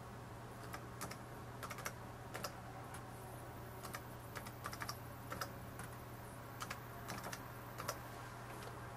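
Quiet, irregular tapping of keys on a laptop keyboard as a Wi-Fi password is typed, soft clicks in short bursts over a low steady hum.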